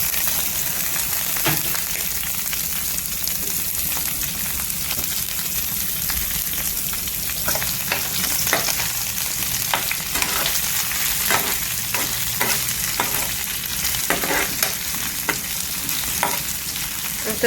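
Onions sautéing in a pan for cuttlefish pasta, a steady close sizzle and frying hiss with repeated stirring scrapes and clicks throughout, no talk.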